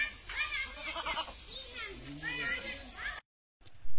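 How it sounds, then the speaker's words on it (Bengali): Several farm goats bleat in quavering, repeated calls while they eat fresh, grass-like green fodder. The calls are close and fairly loud over a busy background, then the sound stops abruptly near the end. "আর এগুলা কিন্তু খুব খাইতেছে আমাদের ছাগলগুলো।"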